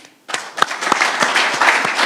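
After a brief quiet moment, an audience at an ADA anniversary event with Maryland Governor Larry Hogan starts clapping for the speakers, with distinct close claps emerging from a growing, steady crowd applause.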